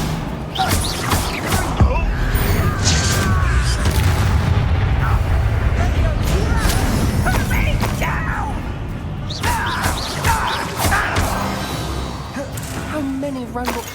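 Bombarda spell explosions boom through a Hogwarts Legacy battle: repeated loud, heavy blasts and crashing impacts spread across the stretch, with a voice talking over and between them.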